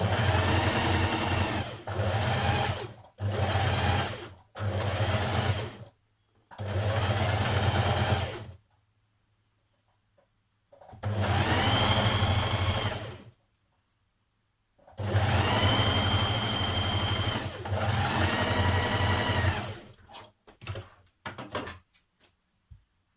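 A sewing machine stitches a 1.5 cm seam on an unlined coat, running in several bursts of a few seconds each with quiet gaps between, close and loud, ending in short stuttering runs.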